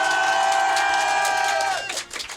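An audience cheers and applauds as loud as possible for an applause-meter vote at a French awards show, a dense sustained roar that fades near the end into scattered clapping.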